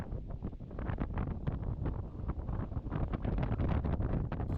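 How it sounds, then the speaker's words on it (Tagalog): Strong wind buffets a microphone outdoors, a loud continuous rumbling roar with gusty flutter throughout and no voices. "Ay, pagkalakas naman itong hangin"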